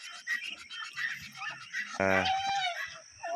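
Hungry backyard fowl (turkeys, ducks, guinea fowl and geese) call at close range in a morning yard, with a mix of chatter and a loud, strained honk near the end.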